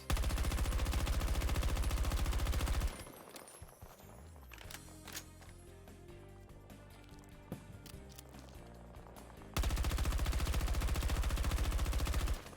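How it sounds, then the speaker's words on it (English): Grenade launcher fire in a video game, a run of sharp, closely spaced blasts and impacts over a steady game soundtrack, loud and alone with no talk. "let me do it again with the grenade launcher, because the grenade launcher doesn't have any stat affecting stuff"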